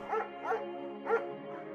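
A shepherd dog in the video game Firewatch gives three short barks, evenly spaced and fairly close, over a quiet steady background hum.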